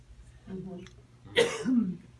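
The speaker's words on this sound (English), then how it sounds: "So, it was a cough" A single cough in a classroom-like setting, preceded by a quieter throat-clearing sound, with faint voices around it.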